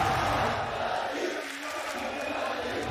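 A large esports arena crowd at the Valorant Champions 2022 playoffs cheers and roars for Fnatic, a steady wash of massed voices heard from a distance for a few seconds with no single voice standing out.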